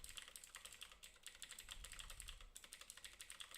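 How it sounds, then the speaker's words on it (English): Computer keyboard keys being pressed in a steady, fast run of close clicks and taps during coding, continuous through the stretch without talk. "I'm pressing the keys now."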